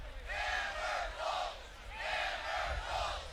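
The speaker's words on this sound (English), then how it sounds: "You can hear the crowd starting to chant, hammer pull." Crowd at the 2013 college ultimate frisbee open final between Pittsburgh and Central Florida chanting "hammer pull" in loud, rhythmic repeated bursts from a massed group of voices, two chant phrases rising and falling.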